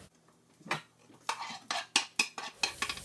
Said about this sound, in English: Get used to stirring, guys, because you're going to be doing it for the next 20 minutes.